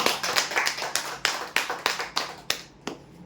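Applause for a prize draw winner: a small group clapping in uneven bursts of sharp, close hand claps that thin out and stop near the end.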